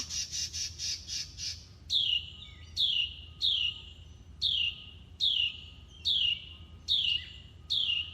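A bird calls repeatedly outdoors, a rapid run of shrill notes followed by evenly spaced, sharp squawking chirps against quiet background noise.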